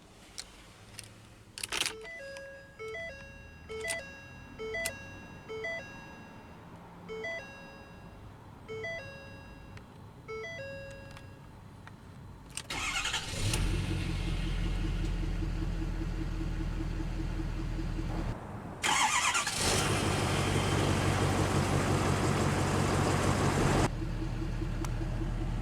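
Electronic chimes and clicks ring out, then the 6.7 Power Stroke diesel engine of a 2011 Ford F-350 Super Duty pickup cranks and rumbles to life, settling into a loud steady idle with a brief dip midway.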